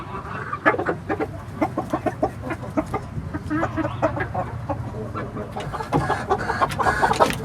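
Chickens and roosters on a farm cluck steadily, with repeated close calls overlapping into a busy flock sound throughout.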